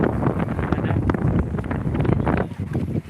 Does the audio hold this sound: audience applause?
no